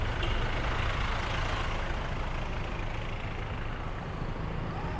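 A truck rumbles past on a busy Pattaya City street, a loud broadband engine roar that fades slightly as it moves away, close by.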